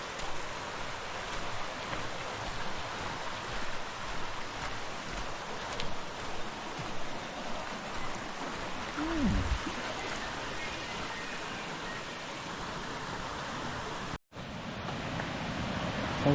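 Steady rush of a stream and waterfall along a bush walking track in The Catlins, a broad continuous wash of water noise at moderate level with no one speaking.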